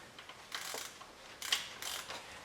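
A torque wrench ratchets on bolts during a timing belt job on a Subaru WRX, with a few short, close clicking bursts over a quiet garage background.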